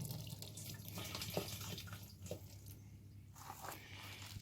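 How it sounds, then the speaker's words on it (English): Water from a small nozzle on a DIY rainwater collection tank splashes and trickles steadily at close range, a soft continuous flow with light dripping textures. "I can turn this on, this little nozzle here. Aha, water."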